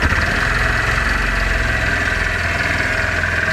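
A Japanese scooter engine idles close by just after starting, a steady loud mechanical drone with a fine rapid pulse and no starter noise, running unchanged throughout.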